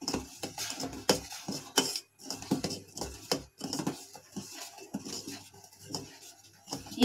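Salt, black pepper, roasted cumin and cardamom powder stirred together for aam panna: a steady run of close clinking and scraping of a spoon against a metal vessel, in quick uneven strokes with brief pauses.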